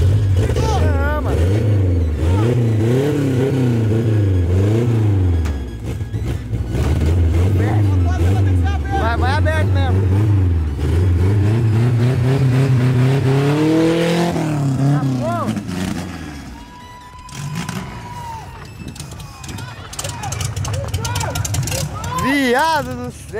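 An old Chevrolet Chevette engine roars loudly, its revs rising and falling in repeated surges before dropping to a rough idle, while excited voices shout close by.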